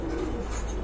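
A pigeon gives a short, soft coo at a pigeon farm in Kashimpur, Gazipur, heard faintly and briefly.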